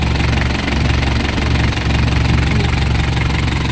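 Isuzu Elf truck diesel engine running: a loud, close, steady idling rumble with a knocking diesel clatter that stays constant throughout, no talking.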